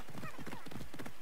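Rhythmic hoofbeats of a galloping horse ridden in the game Assassin's Creed Odyssey, even repeated clops close up, with a short neigh-like sound early on and no voices.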